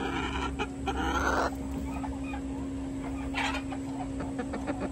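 Hens clucking and murmuring inside a backyard DIY chicken coop, several close, irregular clucks and squawks over a faint steady hum, with no talking.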